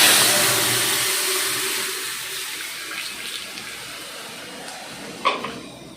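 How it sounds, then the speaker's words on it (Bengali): Boiled lentils pour into a hot pan of fried garlic with a loud rushing, bubbling sizzle that gradually fades, followed by a few small clinks of a utensil near the end. "এবার আমি সিদ্ধ করা ডালটা আস্তে করে দিয়ে"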